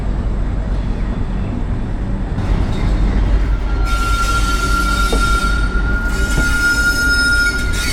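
The 12431 Rajdhani Express pulls out of Shoranur Junction, heard from aboard an AC 3-tier coach: a loud continuous rumble of wheels on rails, with a thin metallic squeal rising and holding through the second half.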